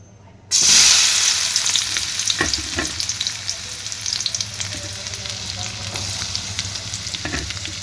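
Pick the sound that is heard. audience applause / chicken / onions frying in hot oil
onions frying in hot oil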